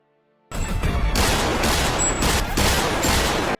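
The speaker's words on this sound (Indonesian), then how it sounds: "Tiba-tiba, Jung Yun datang dan langsung menembak rekan Taisik." A sudden burst of rapid gunfire erupts and continues loudly and steadily, dense overlapping shots with no pauses, in a Korean drama shootout scene.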